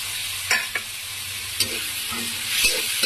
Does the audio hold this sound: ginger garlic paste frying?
yes